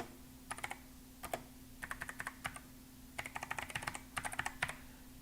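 Computer keyboard typing in irregular bursts of quick, crisp keystrokes with short pauses between them, close and fairly quiet over a faint steady hum.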